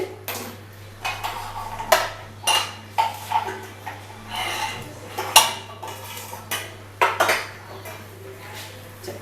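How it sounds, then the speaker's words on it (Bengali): A metal tawa griddle being placed on a gas stove, with repeated sharp clinks and clatters of metal cookware close by over a steady low hum, no talking. "আমি এখানে গ্যাসটা অন করে দিচ্ছি, তাওয়াটা বসিয়ে দিচ্ছি"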